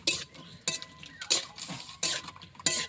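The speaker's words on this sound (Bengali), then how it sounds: "কাঁচা ঝাল, রসুন, এগুলো দিলাম। একটু নাড়াচাড়া করবো," Green chili and garlic are stirred in hot oil in a pan for a mutton curry, with a spatula scraping in four or five sharp, evenly spaced strokes over a faint background.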